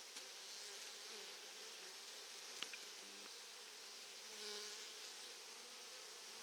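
A honeybee swarm settled on a tree trunk beside the river hums steadily and close, a dense continuous buzz of many bees that swells slightly toward the end.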